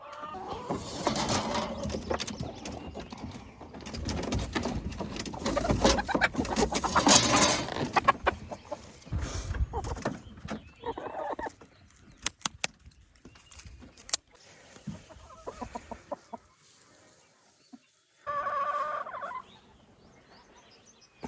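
Chickens cluck and gobble in bursts, loud at first and then fading into scattered calls, clicks and rustling with pauses between.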